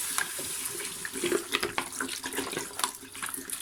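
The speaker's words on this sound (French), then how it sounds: "Versez l'eau sur le côté. La versez pas directement sur la viande." Water pours from a bottle into a soup pot holding meat for harira, a steady close gurgling stream with splashy bursts and a brief trickle.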